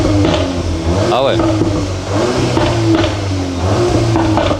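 Volkswagen Golf 8 R engine revving in repeated short bursts up close, each throttle blip rising then falling away, while a person speaks briefly in between.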